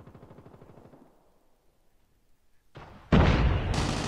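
Gunfire in Call of Duty Mobile: a faint, rapid burst of shots is followed by a lull, then loud, close shots burst in and continue as a harsh, dense volley.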